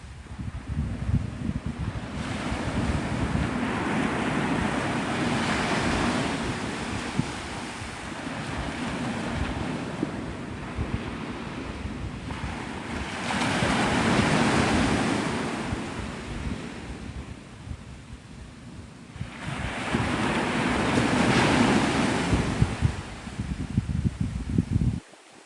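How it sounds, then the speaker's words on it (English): Ocean surf at Navarre Beach, Florida rolls in broad, loud swells roughly every eight to ten seconds, with steady wind buffeting the microphone throughout and no voices. "it's kind of appropriate considering we're here at the ocean"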